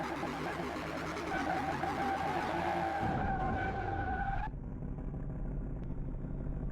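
A heavily tuned, overpowered car in Car Mechanic Simulator revs hard and its tires squeal in a loud, sustained skid that cuts off abruptly midway, leaving engine roar.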